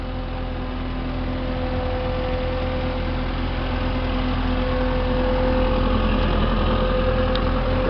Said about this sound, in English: I believe it's a Nissan engine